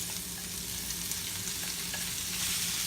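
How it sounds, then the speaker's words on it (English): Hot bacon lard sizzling steadily in a pan, a close, continuous crackling hiss with a low hum beneath it and no talking. "the bacon lard is very hot already"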